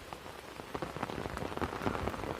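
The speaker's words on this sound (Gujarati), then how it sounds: "થોડક સા ધીરો પડ્યો વરસાદ" Monsoon rain in Kabaraka village, Dwarka district, Gujarat, patters steadily on a surface nearby, with scattered individual drops tapping through the constant wash of falling water.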